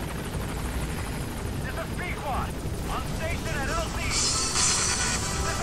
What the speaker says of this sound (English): there's my helicopter